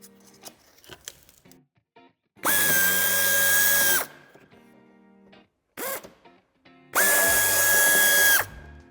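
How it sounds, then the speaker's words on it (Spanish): A power drill backs a screw out during a tow hitch fit on a 2019-onward BMW 2 Series F44 Gran Coupé, in two loud sustained whirring bursts of about one and a half seconds each, with light clicks and handling noises between them. "Nos queda el tornillo a la vista para poder quitarlo."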